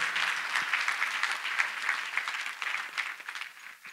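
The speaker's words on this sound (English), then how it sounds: "Let us clap for Master Jesus once again." A church congregation claps in worship, a dense and continuous wash of hands from many people that holds steady and fairly loud before tapering slightly at the end.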